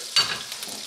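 A single quick scrape of a utensil through garlic paste frying in a pan, a short bright stir over soft sizzling, close and alone.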